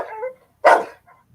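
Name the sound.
dog barking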